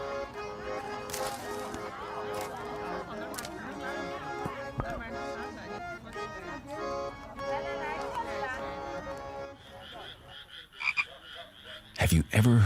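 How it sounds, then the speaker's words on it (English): Frogs croak in a rice field, a busy chorus of repeated calls that runs steadily, then thins out near the end as a few sharper sounds break in. "Have you ever heard frogs croaking in the rice field?"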